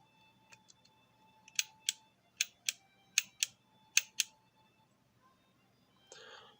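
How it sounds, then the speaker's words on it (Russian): The slide stop mechanism of a TT air pistol clicks in a series of sharp, close metallic snaps, paired in quick succession, followed by a brief scraping rustle. "Именно так работает затворная задержка."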